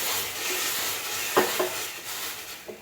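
Spice paste for a puti fish curry sizzles loudly in a pan, with a couple of sharp bursts of hissing and stirring as water hits the hot cooked masala, no talk.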